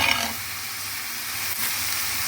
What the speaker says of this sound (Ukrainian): на вершковому маслі. Обжарюю цибульку для печінкових тортиків.